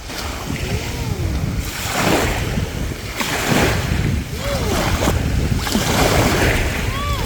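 Sea waves wash steadily onto a beach in Rayong, Thailand, with continuous surf and wind noise rising and falling in broad surges, and faint voices of people at the beach mixed in.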